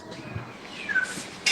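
Cats meow inside a sanctuary's cat house, a couple of short, fairly close mews over quiet room noise.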